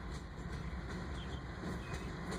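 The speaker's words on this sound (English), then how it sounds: "Following Q205 is train Q185, stack container traffic for Atlanta, Georgia, with BNSF Heritage 2 paint scheme GE diesels pulling." Freight train Q185, carrying stacked containers for Atlanta behind BNSF GE diesels in Heritage 2 paint, rolls by in Birmingham with a low, steady rumble and faint wheel clicks, heard from some distance.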